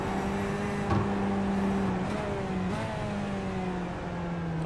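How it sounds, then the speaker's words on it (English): Sim racing sports sedan engine in a video game at Winton, holding steady throttle through a corner then squeezing on more, a continuous buzzing drone with shifting pitch and brief transient clicks, close and moderately loud with no talk. "You can hear how much throttle he's using mid-corner and just squeezing the throttle as he comes out"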